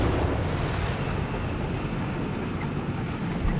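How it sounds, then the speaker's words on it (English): Artillery barrage in the Company of Heroes 3 game: a dense, continuous rumble of distant explosions and heavy low booms rolling together without clear gaps, moderately loud throughout the short stretch. "Vesper's forces unleashing a barrage"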